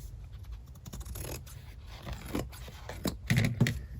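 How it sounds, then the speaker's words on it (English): Scissors trimming paper for a handmade art journal, several short close snips and scratchy paper rustles, getting a little louder near the end, with no voices. "But I wonder if I need to cut this just a tiny bit."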